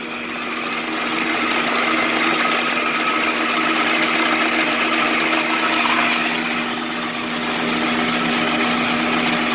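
A Rockwell 14-inch machine runs steadily at around 150 RPM, its motor giving a continuous whirring hum with a constant tonal drone, fairly loud and close, with no talk over it.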